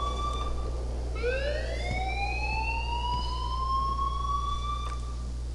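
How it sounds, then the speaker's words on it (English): A fire alarm sounds in the video game Life Is Strange as a steady electronic siren tone that sweeps upward and then holds, loud and continuous over a low hum, with no talking. "please turn off that alarm since that's your job"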